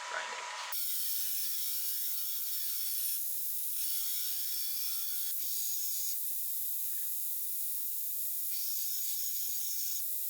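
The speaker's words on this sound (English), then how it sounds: "we can hop over to the grinder and do so much grinding" A grinder works a forged, tempered 2,025-layer fantasy sword blade, giving a continuous bright, hissing abrasive rasp that holds steady and close for the whole stretch after a brief onset.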